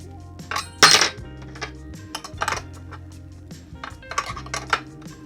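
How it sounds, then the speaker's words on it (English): Two wrenches tighten the bolts on a Razor Pocket Mod Betty kids' electric scooter, giving close, irregular metallic clinks and clatters, with one loud rattling burst early on and lighter taps after it; nobody speaks. "Take both of your wrenches, one on each side, and start tightening."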